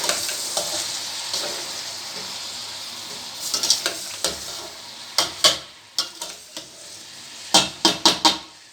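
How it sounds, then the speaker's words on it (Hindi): Chicken and okra with turmeric being stirred in a frying pan: a steady sizzle with sharp scrapes and clacks of the spoon against the pan, which come in bursts toward the end. "हल्दी डालने के बाद अब हम इन्हें मिक्स कर लेंगे।"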